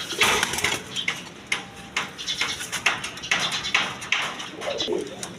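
Satin pigeons coo softly while restless birds flutter and scuffle nearby, giving a mix of low murmurs and repeated sharp wing flaps and taps close up.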